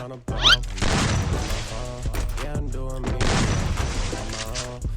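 Gunshots in the mobile shooter Free Fire crack out as loud, punchy bangs at the start and again later, with game music and sound effects running underneath.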